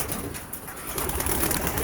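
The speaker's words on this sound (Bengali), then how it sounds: "প্রায় 30টা কবুতর আছে। সব কবুতর বাইরে চলে যাচ্ছে" Around thirty pigeons leaving their loft make a busy, close flurry of wing flaps mixed with soft cooing, dense and continuous throughout.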